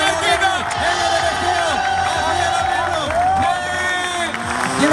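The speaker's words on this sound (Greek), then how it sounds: "Έλα, χειροκροτάμε." Crowd at Red Bull X-Fighters Athens cheering with a dense, continuous roar of many voices, while a loud close voice talks over it throughout.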